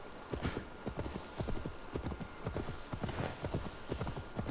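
Hooves clip-clop in a steady, brisk rhythm as a horse travels across England in Assassin's Creed Valhalla, with a faint whinny mixed in; the sound stays fairly quiet and unbroken, and nobody speaks over it.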